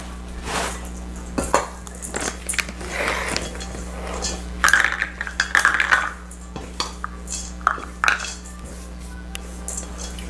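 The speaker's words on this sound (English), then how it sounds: "we'll go ahead and mix those together, get them nice and blended" Dried blueberries get mixed into granola ingredients in a bowl, with scattered clinks, scrapes and rustling knocks of a utensil against the dish, close by and irregular, with no talk.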